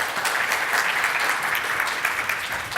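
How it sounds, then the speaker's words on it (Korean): Steady, even applause from a conference audience welcoming a presenter onto the stage, a dense patter of many hands clapping at moderate distance. "큰 박수 부탁드립니다."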